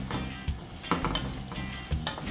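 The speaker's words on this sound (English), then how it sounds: "you want to stir everything together" A spoon stirs a simmering gungo pea and saltfish stew in a pot, soft scraping knocks at irregular intervals over a steady low sizzle and bubble, close and fairly quiet with no voices.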